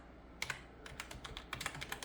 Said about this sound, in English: sorry, I'm typing one-handed